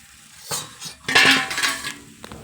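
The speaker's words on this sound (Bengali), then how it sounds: "একটু নাড়াচাড়া দিয়ে উঠিয়ে নিব এখন ঢাকনাটা।" A pot of food is stirred and its metal lid lifted off, making a few close clinks and scrapes, then a louder rattling clatter of metal cookware in the middle, with no talking.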